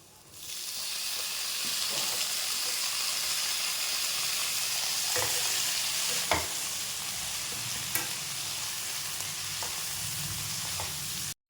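Tomatoes fry with softened onions in a pan for a green chilli potato kurma, giving a steady loud sizzle throughout with a few sharp scrape-and-stir clicks from a spoon.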